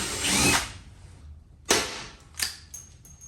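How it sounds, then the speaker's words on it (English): Power drill boring holes in a Lexus camper's wheel well to take aluminum rivets: a short high whine at first, then two sharper brief bursts separated by pauses, close and loud. "I'm gonna start drilling and riveting"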